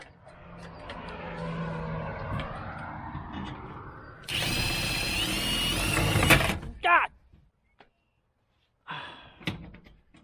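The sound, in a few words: power drill driving screws into garage siding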